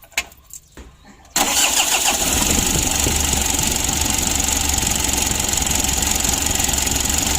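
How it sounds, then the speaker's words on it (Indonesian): Mitsubishi L300 diesel engine, warm but hard-starting and lacking power, cranks briefly and catches, then settles into a loud, steady, knocking idle close by. "Kita coba lagi starter."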